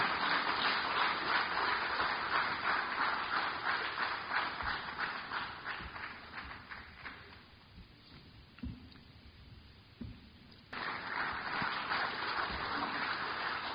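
Broad, steady applause from an audience welcoming Ghana's Minister of Environment, Science, Technology and Innovation at a national environment symposium. The clapping dips partway through, then swells back to full strength.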